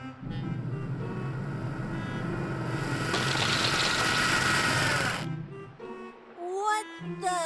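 Power tools running in a video game, a loud sustained mechanical whirring and buzzing that swells, then cuts off abruptly, followed by brief electronic tones.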